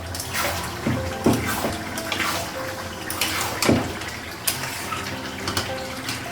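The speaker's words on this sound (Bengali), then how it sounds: "ঝোলের জন্য জল লাগাবো।" Water poured from a tap or jug into a pot of Bengali duck curry for the gravy, a close gushing splash with several surges and brief dips over a few seconds, no voices.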